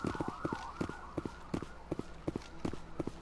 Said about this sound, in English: Ambulance scream.